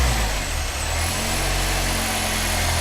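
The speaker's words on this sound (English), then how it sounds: "my idle went up a little right there, and then it just drops down" An Infiniti Q300 engine idles steadily nearby, a low continuous hum with no talk; the idle swell and dip is only slight.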